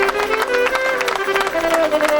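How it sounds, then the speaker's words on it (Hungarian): Wedding guests clap for the groom and his parents, a close, dense patter of many hands over steady hall music and some voices. "egy hatalmas tapsot kérek a Vőlegénynek és a szüleiknek"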